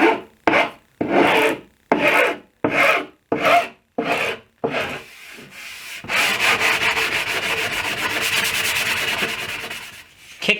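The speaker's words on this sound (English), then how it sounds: "I sand at a 5-degree bevel, and I use the tip of my file to cut" A laminate kitchen island edge is hand-filed and sanded at a bevel: a rhythmic series of close, rasping back-and-forth strokes gives way to a longer continuous scraping run.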